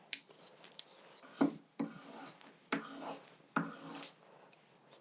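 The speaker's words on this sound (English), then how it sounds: "Just go all the way around with your fine sandpaper stick" A fine sandpaper stick rubs around a wax piece for jewelry making, giving soft, close scratchy strokes with several sharper onsets in an irregular rhythm, quiet and alone.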